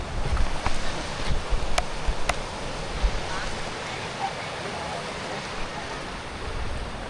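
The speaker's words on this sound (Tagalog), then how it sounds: "So, ito yung lagay ngayon ng ilog guys." River water flowing steadily near Bitbit bridge in Bulacan, a continuous broadband wash heard close and fairly loud, with a few brief knocks early on and no talking.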